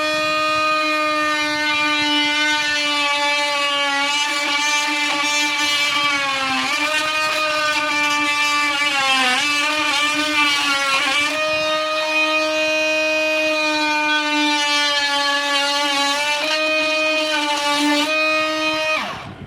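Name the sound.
pipe cutter cutting a leaking pipe inside a wall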